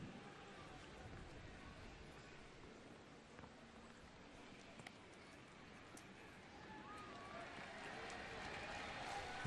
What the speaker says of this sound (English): you hear the applause in the background